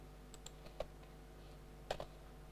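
Faint, sparse mouse clicks at a computer during CAD work, a few light single and double taps over near silence.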